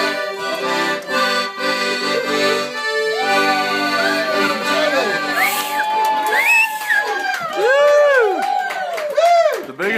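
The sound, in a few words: audience applause and cheering after accordion song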